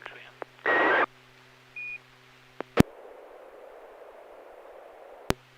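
A ham radio SSTV net carries short bursts of radio tones, a broad tone burst and a brief beep, over a faint hiss, with sharp clicks punctuating the quiet stretches.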